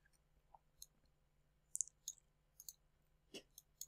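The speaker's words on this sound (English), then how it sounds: "Double click on it" Light computer mouse clicks tap quietly, including a quick double click, scattered as faint isolated clicks over a soft electrical hum in a quiet room.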